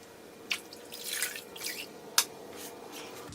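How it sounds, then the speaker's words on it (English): A wet wash mitt is wrung out during a no-rinse car wash, giving a few sharp drips and splashes spread over several seconds against a quiet background. "I don't want it to be dripping wet, just sort of wring out."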